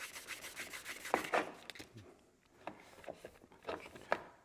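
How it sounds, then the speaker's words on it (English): A cloudy plastic car headlight is wet sanded by hand, giving soft, close scrubbing strokes in uneven back-and-forth bursts with short pauses, faint and without talk. "you just wet sand it a little bit"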